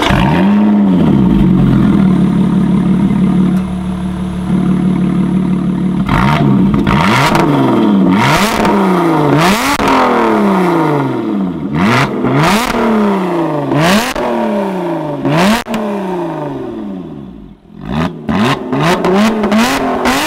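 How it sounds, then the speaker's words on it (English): A warm Lotus Evora engine cranks and fires up with its exhaust valves open, then settles into a rumbling idle broken by repeated sharp revs that rise and fall, loud and close. "I'm gonna start it, open the valves, and give you a few revs because the engine's warm"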